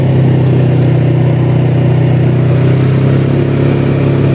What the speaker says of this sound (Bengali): আমি এখানে এটিভি রাইড ট্রাই করছি।